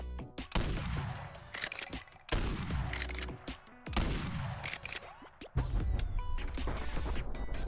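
Bursts of rapid gunfire from dual-wielded akimbo pistols in the Bonelab VR game, the MW3 style weapon firing in four loud, close strings separated by brief pauses, with no talking.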